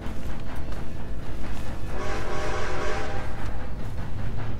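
A train in the video game Red Dead Redemption 2 rumbles along continuously with a steady rhythmic clatter, loud and close, filling the whole stretch without speech.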